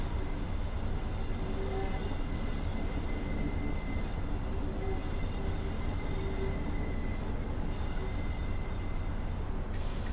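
Train Simulator 2016 train on the Norwich to Great Yarmouth via Reedham route, running steadily through a platform with a continuous low rumble and rail noise, close and even throughout, with no voices.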